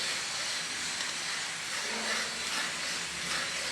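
French fries frying in oil in a pan give off a steady, close, hissing sizzle that holds at an even loudness for the whole stretch, with no talking over it.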